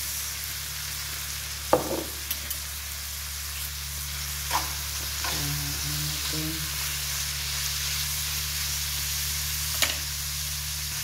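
Chicken garlic sotanghon noodles being stirred in a sizzling pan with black pepper added, a steady frying hiss under a few sharp utensil scrapes and clinks against the pan.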